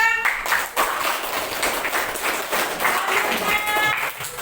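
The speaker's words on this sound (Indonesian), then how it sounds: "tepuk tangan untuk kelompok 2" A class claps steadily for a student group in a dense, continuous burst of applause, close and fairly loud, lasting the whole stretch.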